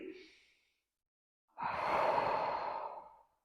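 Deep breaths during a postpartum pelvic floor exercise session: a short exhale fades out, then after a pause a long, loud breathy exhalation close to the microphone.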